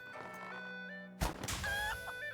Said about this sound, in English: So basically it's shoot chickens